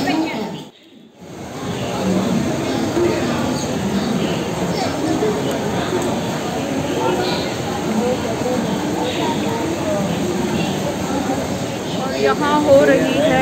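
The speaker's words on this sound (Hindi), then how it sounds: "हम पहुँच गए हैं नई दिल्ली रेलवे स्टेशन" Dense, steady rumble of the busy, crowded New Delhi railway station in rain, with rolling train noise and constant crowd murmur throughout, after a brief dip at the start.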